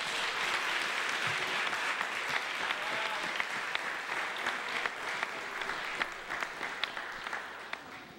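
Congregation applauding in praise of Jesus during a Sunday church service, a steady, dense wash of many hands clapping that holds for the full stretch with a few louder individual claps poking through.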